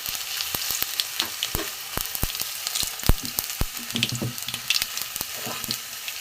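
Black cumin seeds are tempered in hot oil for an eggplant, potato and fish curry, giving a loud, close, continuous sizzle and crackle with sharp pops and the scrape of a spoon stirring the pan.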